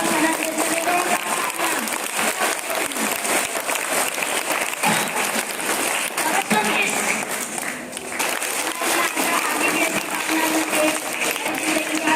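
Loud, sustained applause from a crowd at an Independence Day prize-giving, many hands clapping continuously and close for over ten seconds, with only a short dip in intensity midway.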